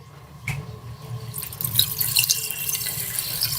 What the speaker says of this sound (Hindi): सबसे पहले हम इसमें पानी डालेंगे।